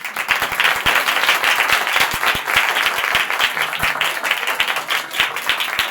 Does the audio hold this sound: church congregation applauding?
yes